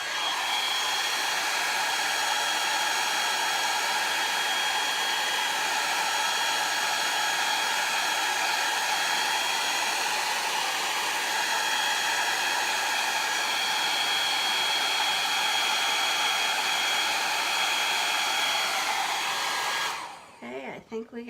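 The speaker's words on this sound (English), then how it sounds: "I'm going to have to put the blow dryer on it." A blow dryer runs steadily to dry paint on a brush, a loud, continuous, even whoosh lasting about twenty seconds before cutting off abruptly near the end.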